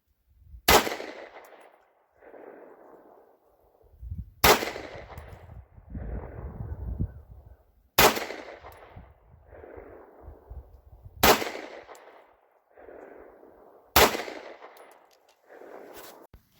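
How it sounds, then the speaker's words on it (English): Five sharp handgun shots from a small Taurus G2 fired over a chronograph at a range, evenly spaced about three seconds apart, each loud, close and followed by a short echoing tail. "we're going to fire it out of the little Taurus G2"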